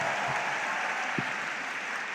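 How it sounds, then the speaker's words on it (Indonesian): Audience applause at a motivational seminar, a continuous even wash of many hands clapping, moderately loud, with a couple of soft low thuds within it. "Aplausnya Pak. Ya Allah yang tepuk tangannya kenceng"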